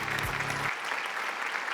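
Audience applause for a panel moderator stepping on stage at a business awards event, a broad steady wash of clapping that continues throughout while a brief low musical tone fades out early.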